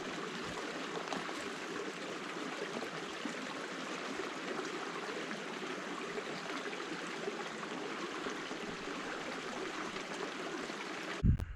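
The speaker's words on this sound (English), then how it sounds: "I can hear the little waterfalls coming up." Small waterfalls on a backcountry stream in the Kahshe Barrens, a steady broadband rush of falling water that holds constant throughout, with a brief bump at the very end.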